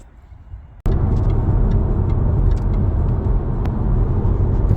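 Jaguar XK X150 cruising at 70 mph on the A66, heard from inside as a steady loud road and engine rumble with wind noise, starting abruptly after a brief quieter moment and continuing evenly.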